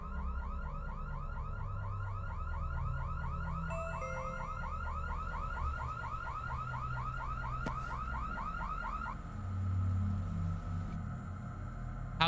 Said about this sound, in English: How convenient the alarm goes off as soon as I pick up the tape.